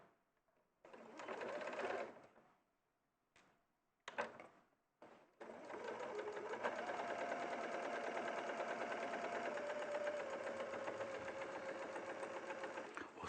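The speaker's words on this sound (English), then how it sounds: "you're just literally then going to stitch over the top of the stitching that we did before." A sewing machine stitches over zipper tape, retracing earlier stitching: short bursts of running with pauses, then a long steady run at even speed, close and fairly quiet.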